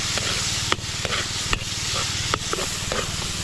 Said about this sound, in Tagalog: Atay igigisa lang po.